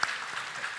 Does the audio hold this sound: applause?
yes